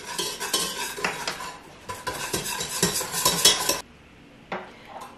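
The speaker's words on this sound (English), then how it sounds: "So it says 1 big spoon into the eggs and whisk like right away so your eggs don't like cook." Hot milk is whisked quickly into beaten eggs for homemade eggnog, a brisk, close run of rhythmic metal-on-bowl clinks and scrapes for about four seconds, then a pause and one short final burst.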